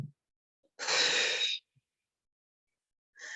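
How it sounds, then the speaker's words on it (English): Soft breath puffs pushed out through the lips during a chair yoga breathing exercise, with one clear airy exhale and a shorter one after a pause, quiet and close with silence between. "it's 3 puffs, puffing the lips without puffing the cheeks,"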